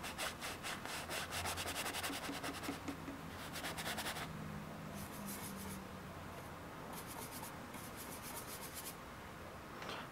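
An oil-paint brush scrubs on canvas in rapid, rhythmic rasping strokes, close and fairly quiet, with short pauses between bursts.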